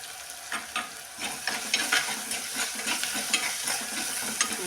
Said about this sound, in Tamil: நல்லா வதங்குறதுக்காக கொஞ்சம் உப்பு சேர்த்துக்குவோம்.